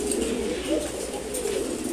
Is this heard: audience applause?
no